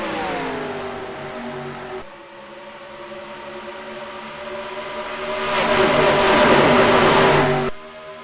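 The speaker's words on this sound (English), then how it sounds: "You can't beat that NASCAR sound of the cars just flying by." Video game NASCAR race car engines roar past at Las Vegas Speedway in turns, one high-pitched whine followed by a louder, brighter surge as another car flies by, then fades.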